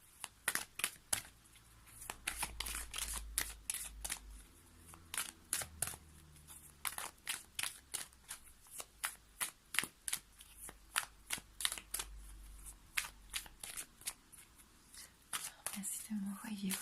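Oracle cards are shuffled close up in rapid, rhythmic riffling bursts, soft crisp flutters repeating steadily throughout, with faint low murmuring in the background.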